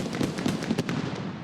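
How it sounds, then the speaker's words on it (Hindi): A Lakshmi bomb firecracker goes off in a cartoon Diwali scene, a loud, dense crackling burst with several sharp pops over about a second and a half, no voices. "लक्ष्मी बॉम्ब का धमाका।"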